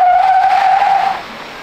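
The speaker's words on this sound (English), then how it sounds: "Let's get charged up and go on throttle in this Hummer EV SUV." Tires squealing under hard acceleration of a 2024 GMC Hummer EV SUV: one loud, sustained high skid lasting about a second, then a quieter fading rumble, with no talk.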